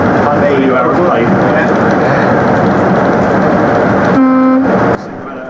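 A train driver sounds a single-tone horn at a whistle board, a loud sustained blast near the end over steady rumbling cab and rail noise.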